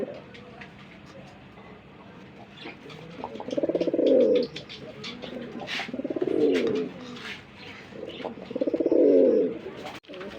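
Pigeons coo from a show cage at a Bengali pigeon farm, three loud, swelling coos arriving in a slow rhythm close by, with someone talking and birds chirping faintly in the background.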